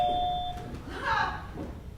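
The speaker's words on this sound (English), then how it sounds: "You always ring the doorbell." A doorbell in a TV drama scene rings a bright two-tone ding, one sustained tone followed by a second softer chime, heard indoors over light background noise.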